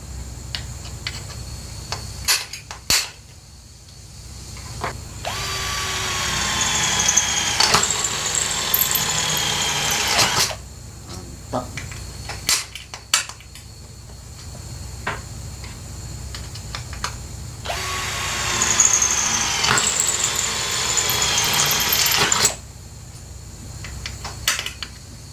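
A Black+Decker BCD003 18V cordless hammer drill in drilling mode, speed 2, whines in two long bursts, rising in pitch as it spins up, with short clicks and mechanical rattles in the pauses between.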